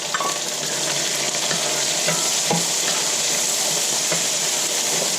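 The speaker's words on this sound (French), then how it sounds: "je mets mes oignons" Onions frying in a pan with autumn vegetables and spices, a constant close sizzle and hiss with occasional scrapes and taps of a spoon stirring, no talking.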